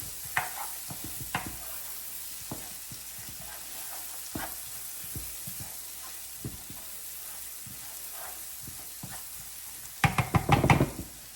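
Butter sizzling and crackling softly in a pan during a gentle sauté for a steak and broccoli stir fry, with scattered clicks and scrapes and a louder burst of stirring and clatter near the end.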